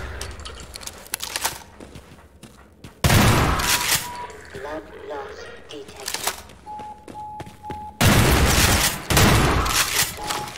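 Shotgun blasts from Half-Life 2 played in Garry's Mod, two heavy broadband bursts landing several seconds apart and loud up close, separated by quieter game ambience with scattered thuds and a brief tone, while a voice talks over the action.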